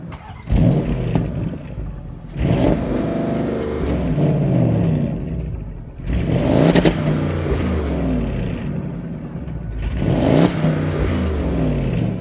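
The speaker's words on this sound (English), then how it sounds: "you will hear the exhaust growling" A 2018 Porsche Panamera Turbo Sport Turismo exhaust growls and roars through repeated accelerations, the engine note rising in pitch with each gear before briefly dropping between shifts.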